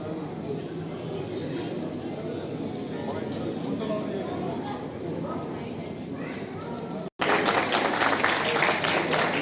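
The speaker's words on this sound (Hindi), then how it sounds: "ताली बहुत जोर से बजनी चाहिए इस होनहार बच्चे के लिए।" A crowd claps continuously in dense applause with murmured voices mixed in, welcoming a young IAS officer; after a brief cut the clapping returns louder and closer.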